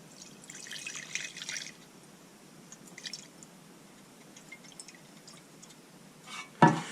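Old gasoline from a small engine is poured into a glass container, a faint trickle with scattered drips and splashes, ending in a louder clink of liquid against glass.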